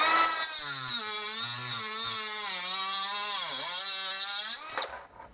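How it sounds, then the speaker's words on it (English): A Milwaukee cordless 3-inch cut-off tool spins up and grinds through a 5/16 bolt, a loud high whine that dips in pitch under load, then winds down with a brief clatter at the end. "we'll see how it cuts through a 5/16 bolt now."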